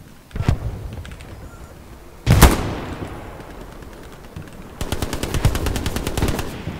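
Bursts of machine gun fire ring out in the video game Hell Let Loose: a couple of sharp single shots followed by a rapid, loud rattling volley, close and alone.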